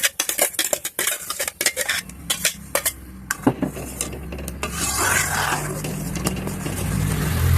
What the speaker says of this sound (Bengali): তো চলো এবার কড়াই বসিয়ে এগুলো দিয়ে দিই।